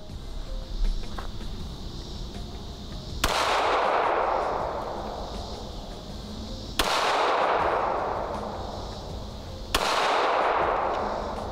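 Three loud, sharp shots from a Glock Gen 2 9mm pistol firing standard 135 grain rounds outdoors, evenly spaced a few seconds apart, each with a sudden crack and a long rolling echo.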